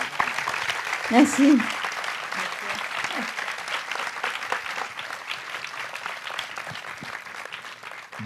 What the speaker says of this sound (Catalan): Us demanaré, per favor, un fort aplaudiment per donar la benvinguda.